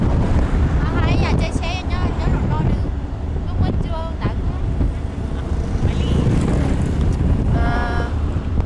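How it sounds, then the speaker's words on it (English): Wind roaring steadily across the microphone on a moving boat, loud and buffeting throughout, with people chatting over it. "I like the wind in your face."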